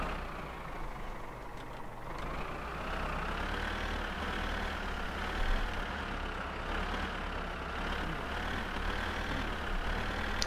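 Tractor engine in the driving game My Summer Car, a steady droning idle-like rumble with a low harmonic whine, running continuously and loud, with slight rises in pitch.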